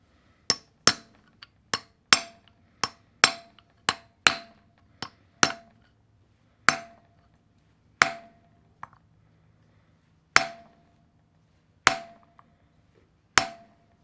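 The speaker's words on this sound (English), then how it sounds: "now I'm just kind of hammering down on the sides of each one of the laminations" A hammer peens the edges of stator laminations on a K.O. Lee 2060 spin fixture, sharp metallic strikes in quick bursts at first, then slower isolated blows with ringing decay, close and clear with no talk.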